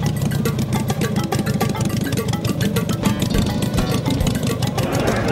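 A 1981 Harley Ironhead motor in a headlight-up Model T-style bike idles steadily nearby, giving a loud, rhythmic lumpy pulse that continues throughout with no voices.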